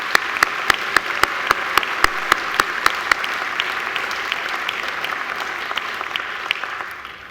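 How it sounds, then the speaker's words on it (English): Applause at a Macquarie University graduation ceremony, a large hall crowd clapping steadily while a few loud, evenly spaced claps stand out close by, the ovation slowly tapering off near the end. "Please stand so we can give you a round of applause."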